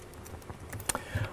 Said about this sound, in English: I'll just start typing some text.